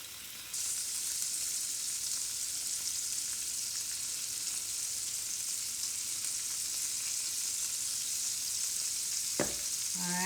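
Pork carnitas frying and crisping in a pan, a steady close, broad sizzle running throughout with a brief scraping stir near the end.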